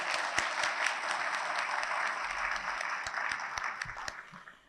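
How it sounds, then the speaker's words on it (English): An audience at a school district luncheon applauds teacher and employee of the year nominees and winners. The clapping is steady, mid-distance and moderately loud, with a few sharp individual claps standing out, and it thins and fades at the end. "Let's give all of them a round of applause"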